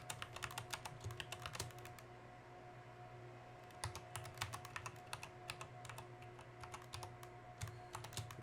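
Rapid, close keystrokes on a computer keyboard while a password is entered, coming in quick clusters with a brief pause midway over a low steady hum.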